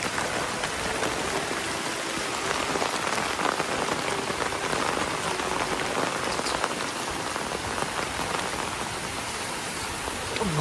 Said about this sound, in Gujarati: વરસાદ તો જો ઓઢી જ ગયો એકદમ.